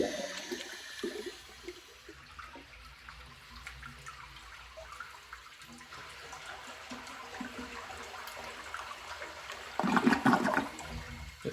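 A 1961 Case 1100 lowboy toilet flushes and refills, with steady running and trickling water through most of the stretch and a louder gurgling surge near the end as the bowl draws down.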